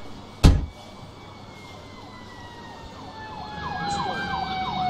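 A normal ambulance siren in the Emergency 4 game with the Mayberry mod wails in rising and falling sweeps, growing louder toward the end, after a brief thump near the start.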